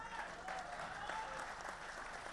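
Audience applause at a vīr ras patriotic poetry recital at a literary festival, a sustained dense wash of clapping from a large crowd lasting throughout, steady and loud with no pauses.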